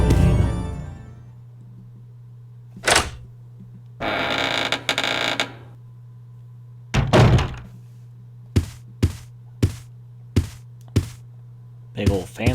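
A door opens in Resident Evil Code Veronica X with a heavy thunk and creak, then several sharp knocking clicks follow in an even rhythm, loud and close over a low steady background hum.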